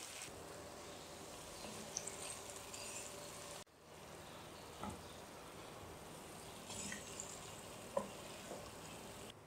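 Chicken karahi being stir-fried in a pan, a steady broadband sizzle with occasional stirring scrapes and clinks, a brief dropout partway through, no talking.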